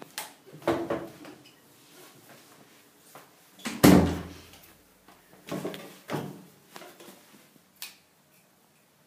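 Indoor door being shut, with several separate knocks and bumps, one louder thud near the middle, in an otherwise quiet room.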